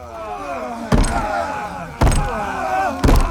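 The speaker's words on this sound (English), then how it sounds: "They pounded on the door with fists and weapons, shouting." Fists and weapons pounding on a door: three heavy, evenly spaced thuds about a second apart, loud and close over a sustained tonal musical background.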